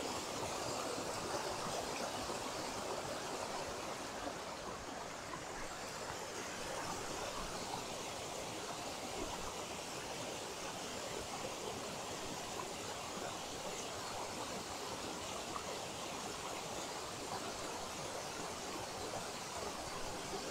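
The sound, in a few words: mountain stream water flowing in wilderness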